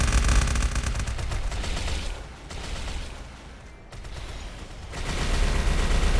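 Dense, continuous gunfire in the video game MapleStory, loud and rapid with a short dip in the middle before the volley picks up again.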